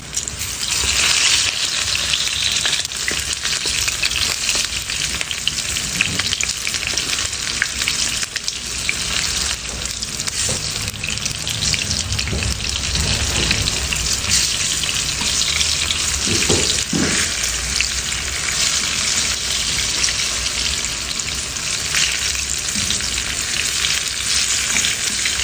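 A dish fries in a pan in a home kitchen, with a steady loud sizzle throughout, occasional stirring clatter and a faint hint of running water.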